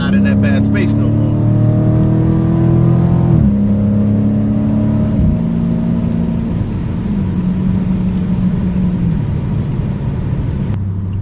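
A 2018 Dodge Challenger 392 Scat Pack roars as it accelerates, its engine note climbing through several gear changes with drops in pitch between them, loud and close from inside the car.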